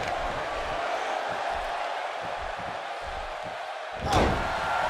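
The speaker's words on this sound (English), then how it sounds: "And she gets slammed to the floor." A wrestler is slammed to the mat in the WWE 2K17 wrestling game: one sharp, heavy thud near the end over a steady crowd roar.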